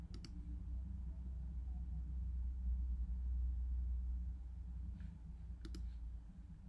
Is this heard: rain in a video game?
no